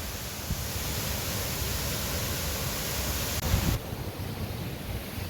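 Looking Glass Falls, a waterfall roaring as a dense, steady wash of noise heard close up and alone, with no voices.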